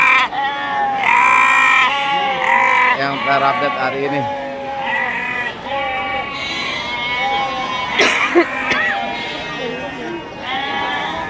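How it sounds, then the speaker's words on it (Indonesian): Garut sheep at Pasar Wage livestock market in Bumiayu bleating loudly and repeatedly, many lambs separated from their mothers crying over one another, with someone talking briefly amid the noisy pen. "Pasar begitu berisik suara domba di tempat bakalan-bakalan karena banyak domba yang dipetil, dipisahkan dari indukannya."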